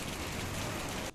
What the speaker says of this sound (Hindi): झमाझम बारिश हुई है।